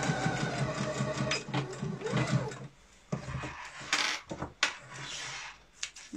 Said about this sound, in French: pour aider la machine à passer l'épaisseur, ne faites pas des tout petits points